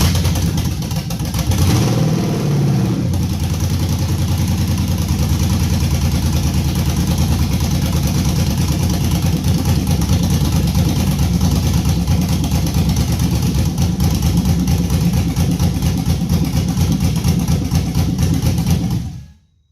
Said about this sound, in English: It was idled up pretty high on 900